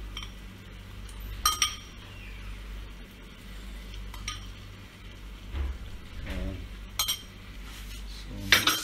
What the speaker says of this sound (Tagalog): Sa haluin lang ulit natin.